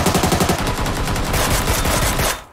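Gunfire in the battle royale game PUBG Lite: rapid automatic bursts, loud and close, rattling without pause for about two seconds before cutting off abruptly.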